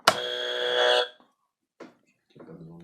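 A game-show quiz buzzer blares once for about a second, loud and harmonic, during a World Cup football quiz, followed by brief faint voices.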